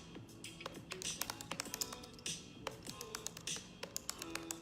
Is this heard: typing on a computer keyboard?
yes